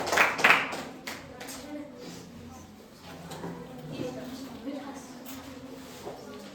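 A school class claps hands in a short burst at the start, then a teacher talks over a quiet classroom background.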